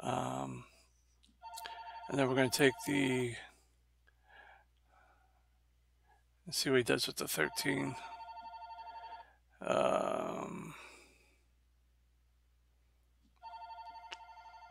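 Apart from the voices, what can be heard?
phone ringing in the studio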